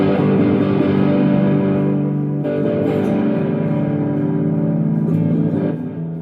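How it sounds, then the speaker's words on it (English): An electric guitar played through a distortion effect, sustained chords ringing loud and close with a thick, saturated tone, changing a few times before fading near the end. "let's get a little distortion going on"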